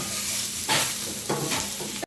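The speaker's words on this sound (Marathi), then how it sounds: "त्याच्यात 2 टमाटे टाकले, ते पण त्याच्यामध्ये फ्राय करून घ्यायचे व्यवस्थित." Tomatoes frying in a hot pan while mushroom masala is prepared, a steady close sizzle with stirring scrapes and short louder bursts, no talking.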